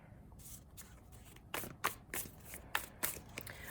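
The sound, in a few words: shuffling tarot cards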